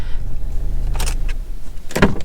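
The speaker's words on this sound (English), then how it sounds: "Open that door because it's a bit warm today." A Ford Mondeo diesel's car door opens with a couple of short mechanical clunks and a latch click over a steady low engine hum, close by and with no talking.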